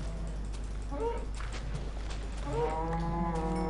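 Cows in Minecraft give two drawn-out, pitched moos, one near the start and a longer one near the end, against a steady low hum with no talking.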